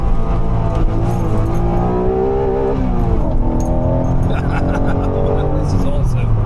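A 1991 Honda NSX engine pulls steadily through a long gear, a dense rising engine drone heard from inside the cabin with someone talking over it.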